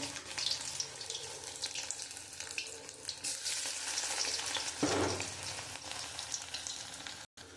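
Shrimp chops frying in oil over low heat, a steady, close sizzle and crackle that runs the whole way through with brief stirring noises and no talking.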